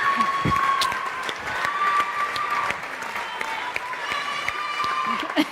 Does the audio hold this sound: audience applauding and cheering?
yes